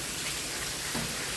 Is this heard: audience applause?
no